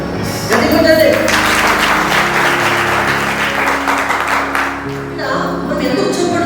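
A church congregation claps hands together, a dense sustained wash of clapping running the whole time at close range, with voices and music tones mixed in underneath.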